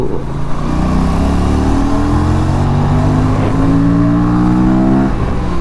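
An Aprilia 457 motorcycle accelerates hard on a test ride, its engine note climbing steadily in pitch through a gear, loud and close from the rider's position, with no talk.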